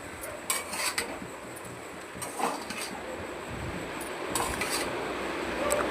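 Spoon scraping and stirring egg fried rice with masala in a pan, a steady busy scrape with a few sharper metallic clinks, close and moderately loud, no voices.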